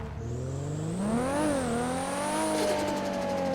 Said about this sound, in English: It also has an custom exhaust mod. Totally different audio than what you'd hear in the game